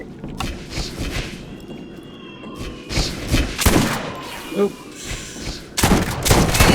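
Bursts of gunfire from Torgue and Jacobs guns in a video game. Rapid volleys and thumping blasts come in clusters across the clip, with a brief spoken word between them.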